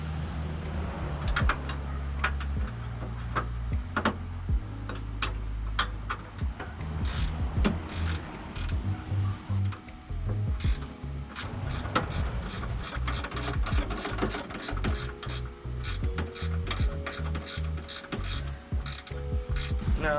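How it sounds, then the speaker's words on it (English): A hand ratchet starts the bolts on a supercharger bracket for a Vortech V7 install on a Mercury Marauder, with close, loud bursts of rapid clicking that repeatedly stop and start, mixed with clinks of metal parts being handled. "Now what you want to do is go ahead and start the bolts."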